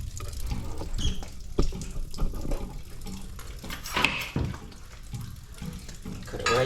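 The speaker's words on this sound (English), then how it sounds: "That's water that's running back this way." Water running back out of a cut pipe in a commercial building bathroom, a steady splashing, trickling flow like a tap pouring into a sink, close and fairly loud throughout, with no voices.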